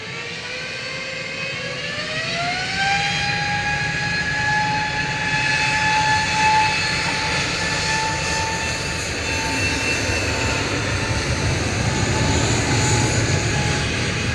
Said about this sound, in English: A320 Neo GTTNF with flight 1371 down to London Heathrow